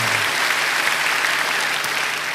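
Church congregation applauding during a Christmas service, a steady, full wash of clapping from many hands that holds evenly at moderate loudness throughout.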